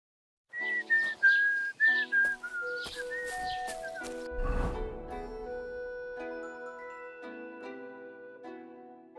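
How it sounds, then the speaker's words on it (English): A man whistles a melodic tune in Kingdom Come: Deliverance II, clear and close, with a sudden louder rustling burst in the middle and sustained tonal game music under the later whistling. "Are you whistling just for fun, Fred?"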